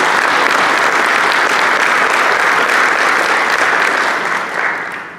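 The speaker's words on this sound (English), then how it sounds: "Please give them a round of applause." An audience at a Caribbean tourism panel event applauds in a dense, steady roar of clapping that fades slightly at the end.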